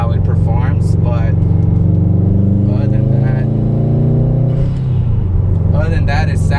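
A 2018 Subaru WRX STI with Cobb intake and Tomei catback exhaust rumbles steadily at cruising speed with a low, throaty exhaust note, while someone talks over it from inside the car.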